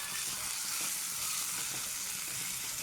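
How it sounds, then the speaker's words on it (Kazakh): Bell peppers frying in a pan, with a steady, dense sizzle that holds at an even level throughout, close and alone with no talking. "Біздің бұрышымыз қуырылып жатыр."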